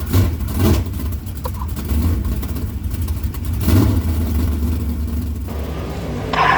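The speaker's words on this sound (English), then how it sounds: "Once we're set up, we get the motor warmed up." A dirt track race car's motor warms up in the pits, a steady low engine drone with occasional swells of revving, loud and close with no talk over it.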